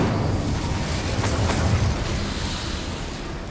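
The Incendio fire spell cast in Hogwarts Legacy on PS5 lets out a loud, continuous roaring burst of flame that fades slightly over a few seconds.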